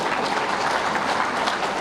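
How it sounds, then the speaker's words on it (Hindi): A political rally crowd in Jharkhand claps together in a sustained, even burst of loud applause filling the whole moment. "फिर एक बार ताली बजाओ रुद्रदेव के लिए भी"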